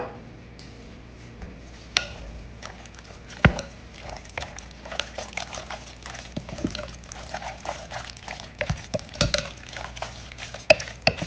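Cheeseburger salad ingredients, including salad cubes, being stirred together in a bowl, making irregular clinks, taps and scraping knocks close by, with no talking.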